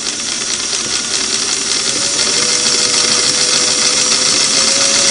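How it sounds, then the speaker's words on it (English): Singer Model 338 sewing machine running steadily while winding a bobbin: a loud, continuous mechanical whir and hiss at a constant speed, close up and without pauses, with no talking. "And then we're going to just continue winding that bobbin at a steady speed."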